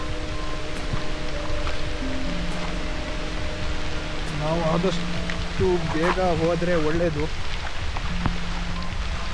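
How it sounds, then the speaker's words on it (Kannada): A dense, steady hiss of heavy rain in a large forest fills the air throughout while someone speaks over it. "ಮಳೆ ಬರ್ತಾ ಇದೆ ಸಿಕ್ಕಾಪಟ್ಟೆ"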